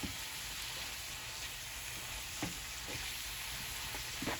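Beef sizzling as it fries in a pan, a steady, close crackling hiss that runs throughout with a few sharper pops and no talking.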